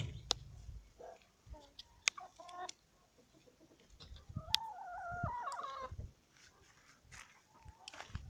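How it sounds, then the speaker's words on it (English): Guinea fowl call from a perch in a garden, giving a run of harsh, rhythmic cackling notes near the middle, moderately distant, among scattered sharp clicks and other fowl sounds. "There's the guinea fowl back there on the perch."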